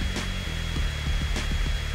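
A hair dryer blows steadily on a cat during a pet-grooming scene in the My Town family simulator game, a continuous whirring drone with a few short clicks over roughly two seconds.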